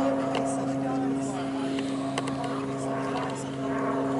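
A fixed-wing plane climbs at the Southport Air Show, its engine a steady distant drone under faint crowd noise.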